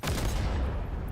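Loud, dense burst of gunfire in the Halo Infinite video game, several shots fired in rapid succession for just over a second with no speech.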